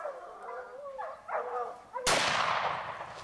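A single loud gunshot cracks on an African hunting safari, following excited voices and barking, then a long booming rumble that lingers to the end.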